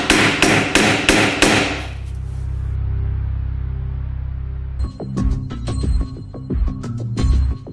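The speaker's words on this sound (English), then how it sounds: "you can just tap it in with a hammer" Several sharp hammer taps driving a nail into HardiePlank fibre cement cladding, a pause filled by a low hum, then another quick run of ringing metallic strikes.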